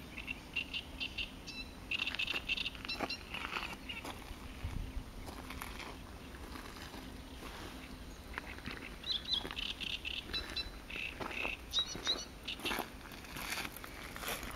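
A dense flock of little gulls feeding on Dąbie Lake near Szczecin, Poland, gives continuous faint chattering calls with scattered pattering and splashing sounds across the water, steady and distant throughout.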